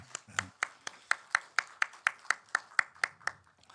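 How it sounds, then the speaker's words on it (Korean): Congregation at a Sunday church service claps hands in blessing, about fifteen crisp, evenly spaced claps at a brisk steady tempo, close and clear with little else in the background. "우리 힘차게 축복의 박수 하십시다."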